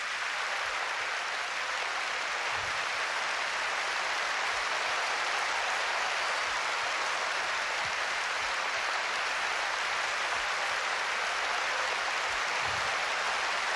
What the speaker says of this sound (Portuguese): Glorifique a Jesus Cristo com palmas